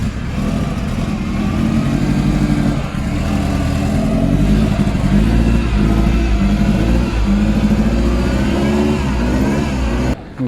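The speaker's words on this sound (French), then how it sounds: "J'entends que ça tourne sur circuit là" Cars lapping the Ferrari test circuit at Maranello: a continuous loud engine drone with revving and rising acceleration, steady throughout with no talking.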